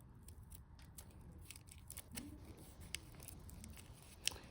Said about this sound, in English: I'm cutting a rectangle or square sort of shape out of it.